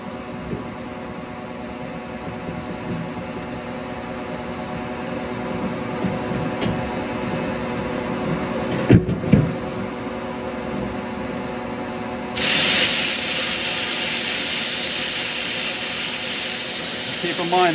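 A blast box strips paint with walnut shells while a shop vac with a cyclone and a compressor run, a steady whooshing hum with brief louder bursts midway, then a sharp jump to a brighter, louder hiss near the end.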